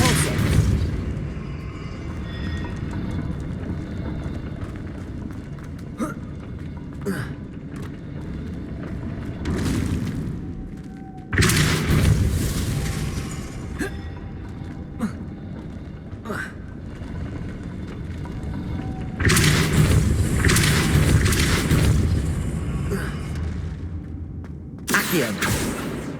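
Depulso spell cast in a wizard game, a loud forceful booming burst, heard several times against a steady low rumbling backdrop.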